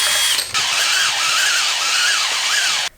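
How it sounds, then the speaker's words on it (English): A power drill spinning a threading die onto a rod whirs steadily at high pitch, its tone wavering slightly as it strains, running for a few seconds before stopping abruptly. "All I did was take a die kit and twist it on, and then attach a drill here,"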